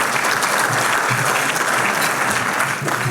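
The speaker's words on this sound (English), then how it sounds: "So let's give him another round of applause." An audience gives a steady, dense round of applause, many hands clapping at once, loud and continuous for the whole stretch.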